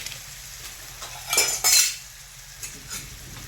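Coriander powder being stirred and fried in a pan for a rustic village-style brinjal and potato curry, with two bursts of scraping and sizzling from a spoon against the pan over a quiet low hiss, no talking.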